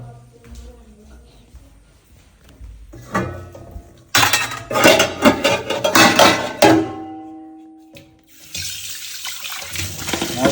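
Dishes and pots clatter in a kitchen with a tap running, bursts of clinking and splashing water in several loud stretches, with people talking in between.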